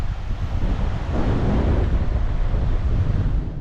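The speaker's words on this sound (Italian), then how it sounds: "c'era un vento incredibile, non si riusciva neanche a stare in piedi" Strong wind at Jurien Bay beach in Australia, a loud, continuous roar buffeting the microphone with steady intensity throughout and no voices.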